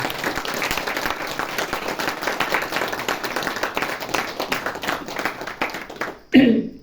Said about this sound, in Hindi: जो कपल में है पहले तो उनके लिए जोरदार तालियां बजाइए